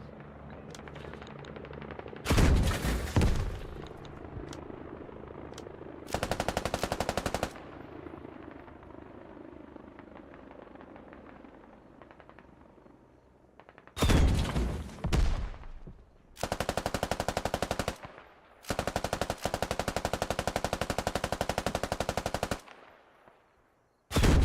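Gunfire from a squad in a military shooter video game, with distant bursts of automatic fire and louder sustained bursts separated by quieter stretches.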